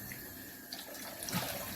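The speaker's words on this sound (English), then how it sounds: "What I recommend you do, and what I do, is using fairly warm water," Tap water running into a sink at fairly warm temperature for wetting the face before a traditional wet shave; a steady, soft close splash throughout, with no talking.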